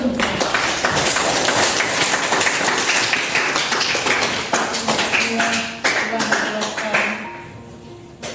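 Schoolchildren in a classroom clap their hands in a loud, steady patter that thins out toward the end, with a few voices rising over it.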